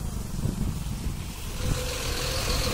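A big truck approaching, its deep engine rumble rising steadily and drawing nearer, a continuous low-pitched drone with no clear break.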